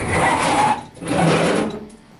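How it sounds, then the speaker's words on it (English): A bandsaw rasps loudly and close by through a sword blade blank, cutting out its rough outline in two sustained bursts separated by a short pause, then trailing off. "First thing I'm going to do is on my bandsaw"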